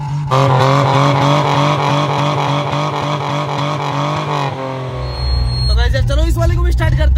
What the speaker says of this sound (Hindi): कटने की वजह से इसकी जो आवाज है वो किसी रेसिंग कार की तरह देना